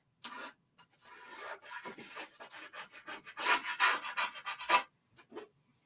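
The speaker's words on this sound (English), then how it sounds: "make sure you take like a credit card or something like that to rub it down really well" A credit card rubbed firmly across a painted wooden board, close up: a series of dry scraping strokes in uneven bursts, growing louder toward the end, with no talking.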